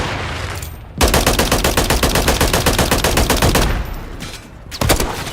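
Rapid automatic gunfire in a military shooter video game, a loud sustained burst of evenly spaced shots lasting a few seconds, then a pause and another sharp blast, with no talk over it.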